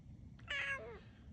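A single short, clear meow from a cat nearby, rising then falling, against a quiet low hum.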